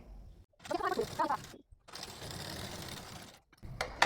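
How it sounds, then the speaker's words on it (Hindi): A sewing machine stitching a seam over blouse lining in short bursts, whirring runs separated by brief pauses, close and moderately quiet, with no speech. "अस्तर के ऊपर हम लोग एक सिलाई लगाएंगे"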